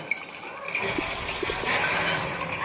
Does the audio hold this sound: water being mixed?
yes